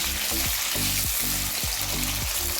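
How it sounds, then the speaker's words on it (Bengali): Bitter gourd (karela) fries in hot oil for a Bengali shukto, a loud, continuous sizzle with no voices, broken by repeated scraping strokes of a spatula stirring the pan. "দেখুন এখন করলাটা ভেজে আমি তুলে নেব"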